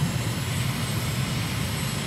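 A MiG jet in a flight simulator game roars steadily at takeoff power, a continuous loud engine rumble with broadband hiss and no voices.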